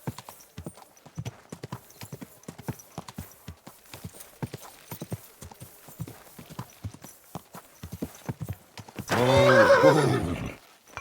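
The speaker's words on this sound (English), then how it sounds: "You're a good horse." Hooves clip-clop in a steady walking rhythm for several seconds, then a horse lets out a loud, drawn-out neigh close by near the end.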